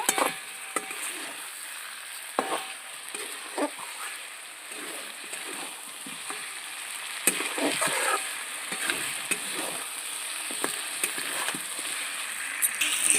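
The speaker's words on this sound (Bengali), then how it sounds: "ভেজে রাখা আলু দিয়ে দিচ্ছি আলু দিয়ে আলু দিয়ে একটু কষিয়ে নেব" Mutton and pre-fried potatoes sizzle and hiss in a wok, with steady frying crackle and scattered clinks and scrapes from stirring, close and moderately loud with no talk.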